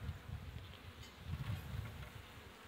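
Honeybees humming around a beehive at a village apiary, a continuous soft buzz of many insects with small fluctuations in intensity, faint and close, with no talking.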